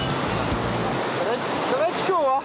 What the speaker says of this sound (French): pour les amateurs de saut, il y a encore des vagues